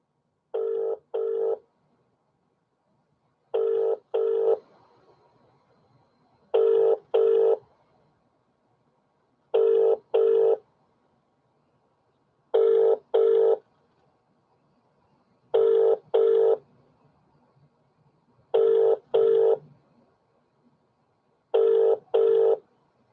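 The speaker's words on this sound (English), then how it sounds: "Let's see if he picks the phone up, because yesterday they wouldn't pick the phone up." An outgoing phone call rings out in eight evenly spaced double-ring bursts, loud and clear against silence, with no answer between them.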